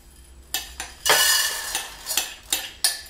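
Chunks of cocoa butter drop into a pan with several light clattering knocks and scrapes, a brief burst of rustling in the middle, close and fairly quiet.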